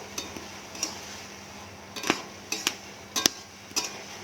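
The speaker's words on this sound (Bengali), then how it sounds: "চাপাটা খুলে আমি একবার দেখে নেবো, একটু নেড়ে চেড়ে দেবো।" A pot of bottle gourd and prawn curry being stirred, with a handful of sharp metallic clinks and taps from the spoon against the pot at irregular intervals over a quiet background, close by, with no talking.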